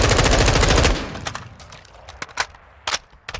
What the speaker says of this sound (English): we're just going to fire 30 rounds